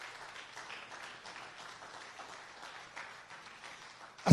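Faint applause from a church congregation, a soft continuous patter of clapping, fairly distant, ending in a louder bump.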